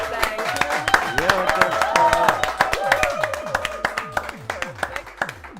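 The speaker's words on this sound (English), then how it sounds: "A round of applause for our dear Reiltin." Audience applause for a person named Reiltin at a live auction night, sharp claps rising and thinning over a strong tonal voice and background sounds, with talk running underneath.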